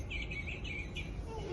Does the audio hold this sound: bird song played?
yes